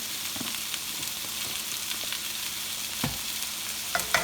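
Potatoes and cauliflower with turmeric powder sauté in a pan for aloo gobi, giving a steady close sizzle with occasional stirring scrapes and clinks near the end.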